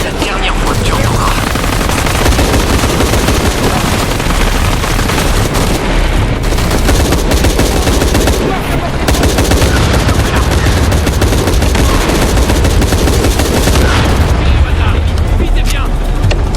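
Sustained automatic gunfire and booming explosions in the video game Shadow of the Tomb Raider, loud and dense throughout a firefight, with voices speaking over the din.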